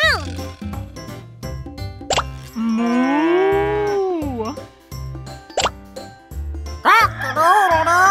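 A cartoon farm-animal song carries two long, swooping cow moos, most likely voiced in imitation of the animal, over bouncy children's music with sharp plopping accents.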